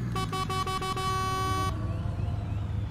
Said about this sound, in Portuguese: Olha a buzina.